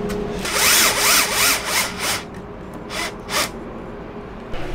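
Cordless power drill driving screws to fasten hinges on a camper's wall cabinet, several short whirring bursts of rising and falling pitch, close and loud, with brief pauses between.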